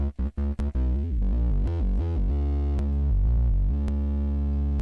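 Loud, buzzy Moog analog synthesizer tones play continuously, starting with a few quick stabs, then sweeping and wobbling in pitch with filtered, growling swells.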